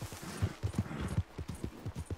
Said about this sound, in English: What a cool horse.